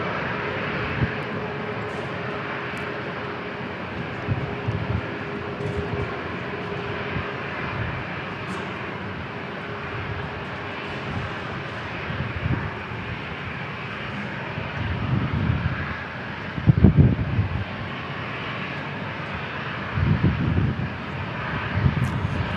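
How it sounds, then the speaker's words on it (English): An Alaska Airlines airliner takes off from San Diego International Airport. A steady, broad engine roar holds throughout with a faint tonal whine, and a few louder low rumbling bursts come near the end. "Alaska Airlines is going to take off here."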